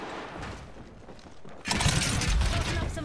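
Rapid gunfire in the video game Apex Legends, a burst of shots that erupts loudly halfway through and keeps going after a quieter start, with a voice underneath.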